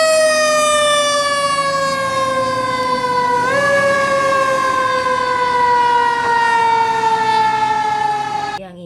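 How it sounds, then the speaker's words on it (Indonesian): A toy fire truck sounds its electronic siren loudly and close, one steady wailing tone that holds for about nine seconds with a small jump in pitch partway through, then fades at the end. "ini ada mobil pemadam kebakaran lagi nih teman-teman"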